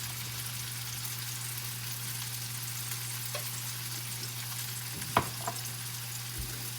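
Stuffed catfish searing in a hot pan, a soft, even sizzle with a low steady hum beneath, broken by a couple of faint clicks and taps, with no talk.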